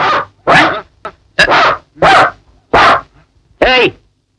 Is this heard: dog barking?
yes